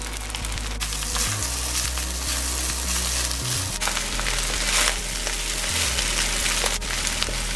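Carrot and bora tossed into a hot pan for chicken fried rice sizzle steadily and close up, with a low hum underneath and occasional scraping stirs, no voices.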